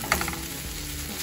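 Bacon browning in a pan for a homemade pizza pie gives a steady, faint sizzle with a few brief stirring scrapes near the start, heard alone without talk.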